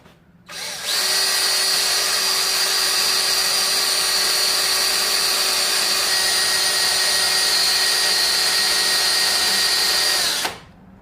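A power drill whines at high speed for about ten seconds, steady and close, starting and stopping abruptly with a piercing metallic tone as it bores a pilot hole through a spot weld on a Nissan 240SX radiator support.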